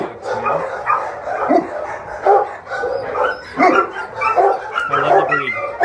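Several dogs bark and yip repeatedly at an animal shelter, a loud, overlapping chorus of barks with occasional whimpers echoing close by.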